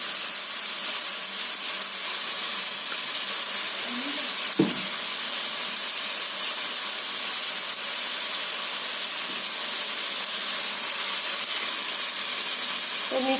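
Spice paste for katla fish malaikari fries in a hot pan, giving a constant bright steamy hiss with one brief clunk near the middle, steady and close throughout.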